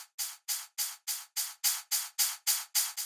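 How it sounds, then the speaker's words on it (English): A steady run of short white-noise hi-hat hits from a melodic techno production, about eleven evenly spaced bursts with a bright, hissy top and no low end. "we need kind of a white noise hat"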